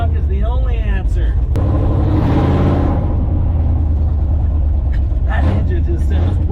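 A big-block car engine runs with a deep rumble and rises in a rev swell midway, heard close and loud while people talk and cheer over it.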